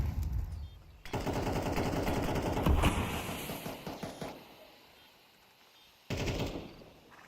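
Rapid automatic gunfire in a Counter-Strike match rattles loudly for several seconds, eases off, then another short burst breaks out near the end.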